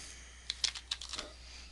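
Quick bursts of keystrokes on a computer keyboard, about half a dozen crisp clicks spread over roughly a second, fairly faint and close, with quiet room tone before and after.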